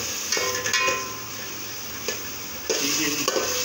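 Goat meat simmers in ghee in a handi pot over heat, a steady sizzle with several scraping stirs of a spoon against the metal, close and fairly quiet.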